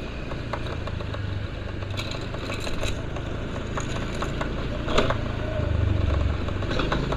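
A motorcycle engine hums steadily on busy Jalan Kartika Plaza in Kuta, Bali, amid constant street traffic noise, with a slight swell near the end.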